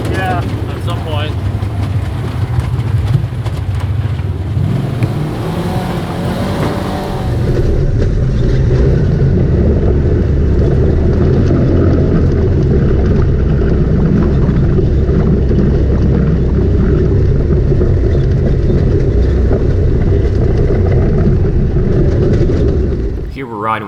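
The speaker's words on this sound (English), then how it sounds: "in front of him is Lee in his RZR 1000 XP with the flashing seizure whips." Polaris RZR 1000 XP side-by-sides driving the Rock House trail system in West Virginia, a continuous rumbling engine drone with wind buffeting and rattles, getting louder and steadier after the first several seconds.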